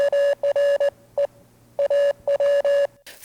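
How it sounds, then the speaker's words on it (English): A steady tone pulses out Morse code as a radio signal, with sharp on-off beeps of short dots and longer dashes in an irregular rhythm, loud and alone before a brief burst of noise at the end. "What Marconi did was sent out what were called intermittent waves, dots and dashes from the Morse code."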